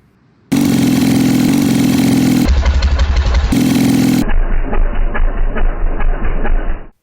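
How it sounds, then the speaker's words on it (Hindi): An old motorcycle engine in need of servicing runs noisily, a loud, rough, continuous rattle that shifts in tone partway through and stops abruptly at the end, with no voices. "तेरी बाइक तो खटारा है"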